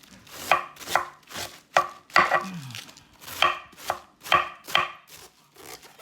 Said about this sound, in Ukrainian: так треба дрібнесенько, дрібнесенько нарізати